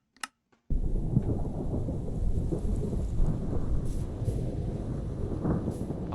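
Heavy rain falls in a Minecraft weather survival world as a dense, continuous hiss that begins abruptly after a brief silence, with low thunder-like rumbles underneath and no talking.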